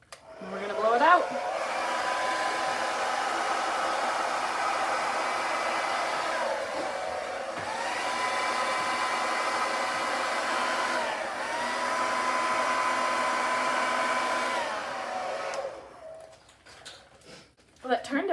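Steady whooshing of a hair dryer blowing over wet neon pink and white acrylic paint in a Dutch pour, loud and continuous for about fifteen seconds with a wavering tone, then switched off, leaving brief rustling.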